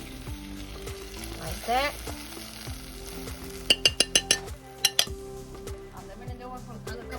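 Vegetables sizzle in a pan while being stirred with a utensil, giving scraping, rhythmic clinks and a cluster of sharp metallic taps, with a brief spoken phrase.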